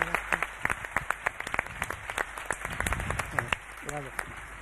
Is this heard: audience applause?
yes